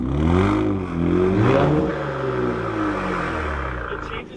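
An Infiniti G35 with turbos, AMS downpipes and a Nismo exhaust revs repeatedly, its raspy engine tone rising and falling in close, loud sweeps with turbo whine above, settling toward a steadier drone.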